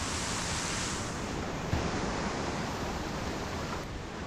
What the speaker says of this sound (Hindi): ये देखिए वाटरफॉल, आवाज़ आपको सुनाई दे रही होगी।